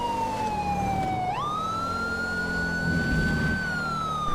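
A police car siren wails in GTA 5 LSPDFR on a British Police Scotland patrol, a loud continuous electronic tone that sweeps steadily and then jumps higher partway through, with a low engine rumble beneath.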